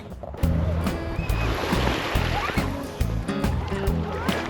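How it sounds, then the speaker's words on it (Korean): Gentle sea waves washing onto a beach at Donghae on a hot day, a continuous nearby wash and slosh of water with people's voices mixed in. "파도가 세진 않네요"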